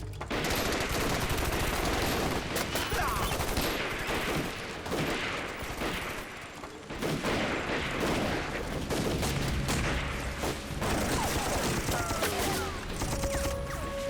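Heavy gunfire fusillade in a war film battle against Japanese troops, dense overlapping rifle and machine-gun volleys crackling continuously and loudly throughout, with shouted voices buried in the din.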